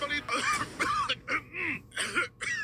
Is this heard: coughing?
yes